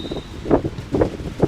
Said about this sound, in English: Get us out of this windy and rainy conditions.